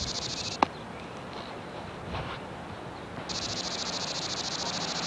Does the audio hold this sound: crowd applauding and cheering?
no